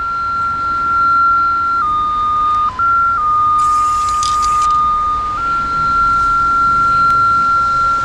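Steady electronic tone from a cable locator alarm beeping continuously at a telecom job site where shallow phone cables are being traced, shifting pitch slightly a few times, loud and close with a brief hiss of noise partway through.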